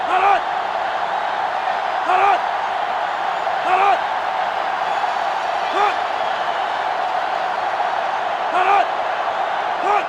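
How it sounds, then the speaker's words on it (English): Roaring stadium crowd in the college football game NCAA 06, Ole Miss at Mississippi State, a steady loud wash of noise with brief swells roughly every two seconds, as on-field calls or plays land. "this crowd is going absolutely insane"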